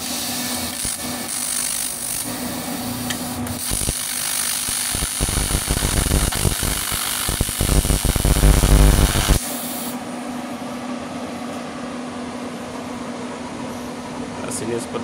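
An electric argon TIG welder runs on aluminium with a rough buzzing, crackling arc that builds for several seconds and then cuts off, leaving a quieter steady hum.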